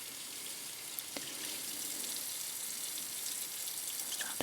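Water runs steadily from a sink faucet during a cleaning job, a continuous soft hiss with a few faint clinks near the start and end.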